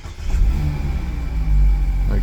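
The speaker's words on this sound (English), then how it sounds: "so we'll start the vehicle up." A Mazda MX-5 RF with the 2.0 SKYACTIV-G engine fires up from inside the cabin, a steady low engine rumble swelling slightly midway and holding at a loud, close level.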